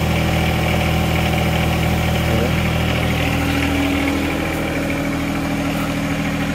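A John Deere 1025R compact tractor engine runs steadily at factory idle, a loud, close, even diesel drone with constant low hum and no talking.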